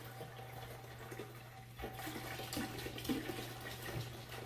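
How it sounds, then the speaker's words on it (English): A gallon of wine is poured into a pot for Swedish glogg, giving a steady, quiet, continuous splashing pour with a low background hum and no talking. "So we start by pouring a gallon of wine in there."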